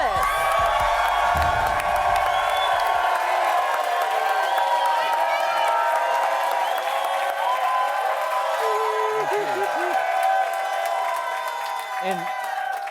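A studio crowd cheers and applauds for Isiah Thomas, the Bad Boy Pistons NBA champion, a sustained roar of whoops and clapping that holds steady and loud while voices carry over it.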